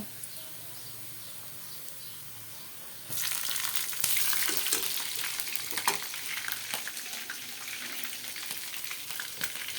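Onions and green chili sizzle hard in hot oil in a wok, the frying jumping in loudly after a quiet start and crackling steadily alongside occasional stirring clatter.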